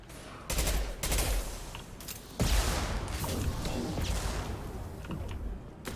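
Heavy impact gun fired in the sci-fi shooter Mass Effect 2: a few sharp, loud blasts land close together, with dense crackling battle noise between them and rumbling on throughout.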